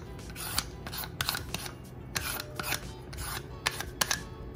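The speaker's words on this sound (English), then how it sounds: "I'm just going to be using this peeler." Inexpensive handheld vegetable peeler scraping along carrots, making close, quick rasping strokes in an uneven rhythm against a quiet kitchen background.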